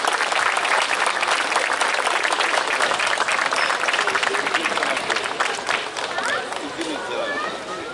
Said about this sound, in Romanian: Sigur, îi puteți aplauda